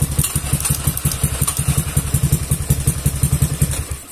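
A carbureted Honda Beat scooter engine idles close by with a quick, regular putter of low thumps and a faint clatter, steady and loud throughout.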